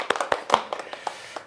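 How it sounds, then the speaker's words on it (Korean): Hands clapping in a classroom, a short scattered burst of several sharp, close claps from a few people rather than one single clap. "박수 한번 치면서 시작할까요?"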